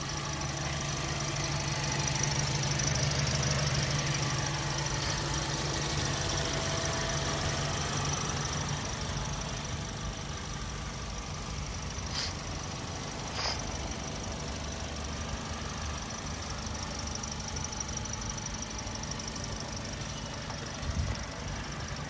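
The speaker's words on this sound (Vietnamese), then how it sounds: "Vâng, và đây là cái tiếng động cơ của chiếc xe." A 2017 Toyota Vios G automatic with a 1.5-litre petrol engine idles smoothly and steadily at close range, a constant low hum with faint mechanical ticking and no voices.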